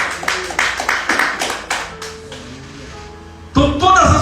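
Church congregation at a Pentecostal deliverance service clapping in bursts of rapid applause, fading and then swelling again loudly near the end, with voices mixed in.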